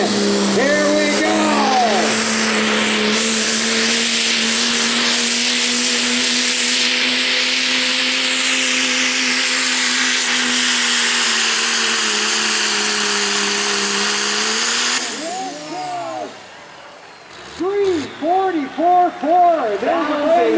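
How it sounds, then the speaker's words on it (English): An unlimited-class diesel pulling truck at a night truck-pull event holds a loud, sustained engine roar with a rising turbo whine for about fifteen seconds, then cuts off abruptly, followed by an announcer talking over crowd noise. "So he's spooling it right now, causing that turbo to spin."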